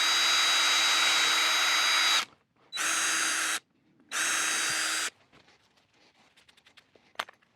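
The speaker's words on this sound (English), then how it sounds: "I like to pre-drill my holes just a little bit to keep the wood from splitting." A power drill pre-drills holes in wood with three whining bursts, one long and two shorter, followed by faint handling and tapping noises close by.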